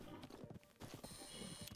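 Horse hooves clopping in Zelda: Breath of the Wild, a quick run of steady thuds close by, set against continuous game music and ambience.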